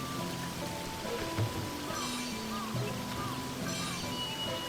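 Steady rain pattering down across a rice-farming landscape in the game Sakuna of Rice and Ruin, a soft continuous hiss with game music tones layered over it and no talking.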